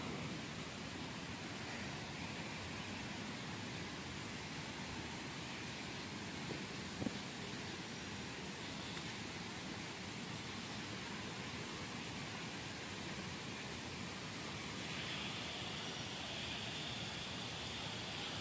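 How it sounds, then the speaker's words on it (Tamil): Jhari waterfall in Karnataka rushes as a steady, even broadband roar, soft and unbroken with no other sounds standing out. "பாருங்க ஃப்ரெண்ட்ஸ், ஃபால்ஸ் கண்டுட்டோம்"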